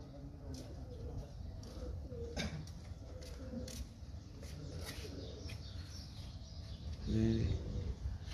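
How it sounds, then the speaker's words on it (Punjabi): Pigeons at a feeding and landing spot coo softly nearby, with a few low calls rising over steady background noise, one fuller coo standing out toward the end. "ਮੈਂ ਆਪਕੋ ਦਿਖਾਤਾ ਹੂੰ, ਇਹ ਕਬੂਤਰ ਉਤਰਾ ਹੋਇਆ"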